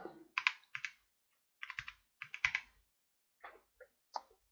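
Quiet bursts of typing on a computer keyboard, clustered keystrokes with short pauses between them, close by and alone in a quiet room.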